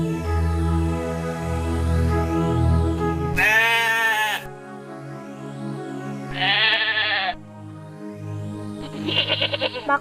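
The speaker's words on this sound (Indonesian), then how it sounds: "Maka Yusuf dan Maria terpaksa menginap di kandang domba." Sheep bleat in a pen, three loud drawn-out calls spaced a few seconds apart over a steady background of music.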